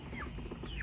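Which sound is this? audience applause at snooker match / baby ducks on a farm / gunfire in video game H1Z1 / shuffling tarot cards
baby ducks on a farm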